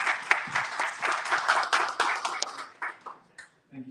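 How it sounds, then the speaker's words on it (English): Audience clapping at a blockchain panel event, a modest room's worth of hands building briefly and then thinning into scattered claps before dying away within a few seconds. "So round of applause for Ade."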